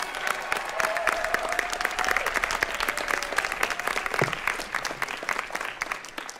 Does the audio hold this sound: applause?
yes